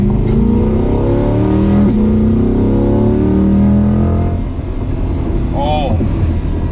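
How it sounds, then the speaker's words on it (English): A 2021 Chevrolet Corvette C8 3LT mid-engine sports car revs loudly and steadily from inside the cabin, the engine note climbing in pitch before easing off, with a brief voice near the end. "This car loves to rev."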